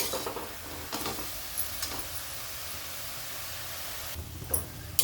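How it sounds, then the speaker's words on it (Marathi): Tomatoes sautéed in a pan for a fenugreek vegetable dish, a soft low sizzle with a few scattered spatula scrapes and clicks, quiet and close, with no voices. "आता टोमॅटोला पण आपल्याला परतून घ्यायचं आहे थोडं मऊ पडेपर्यंत असं परतून घ्यायचं टोमॅटोला"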